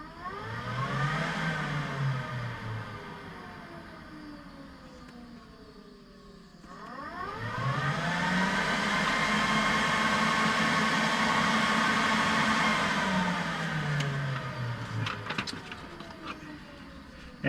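Assault Industries roof fan on a UTV whirring steadily with a pitch that sweeps up and down as it ramps, briefly dropping off around the middle before spinning back up and running loud and close.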